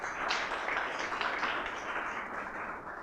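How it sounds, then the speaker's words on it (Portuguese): Steady, dense applause fills the room as Colonel Ricardo Gambaroni is welcomed to a table at a gathering, holding a fairly even level for the full stretch with no pauses. "sente-se à mesa aqui com uma salva de palmas"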